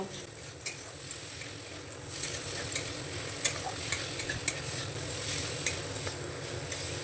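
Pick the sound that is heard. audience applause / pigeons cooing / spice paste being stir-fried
spice paste being stir-fried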